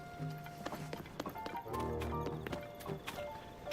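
Horse hooves clip-clop on a stable floor in World of Warcraft's Stormwind, a string of uneven hoof strikes with a faint whinny, close and alone with no talk.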